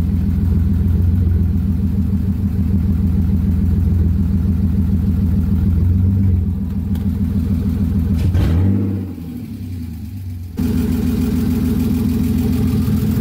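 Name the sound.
rebuilt car engine running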